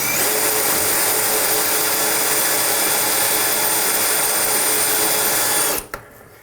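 A power drill whines loudly and steadily as it bores a hole through wet ceramic tile, then cuts off abruptly near the end.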